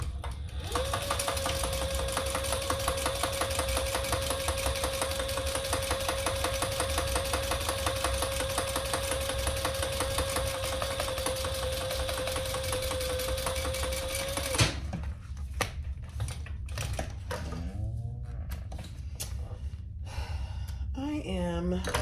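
A sewing machine top stitching the side panel of a unisex crossbody bag runs in one long, steady, loud whir for about fifteen seconds, then stops abruptly, followed by quieter handling noises and breathy sounds.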